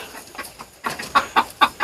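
A black Polish rooster with a white crest, one-eyed, clucks in a short series of four or five distinct, evenly spaced calls, close by, after a faint quieter stretch.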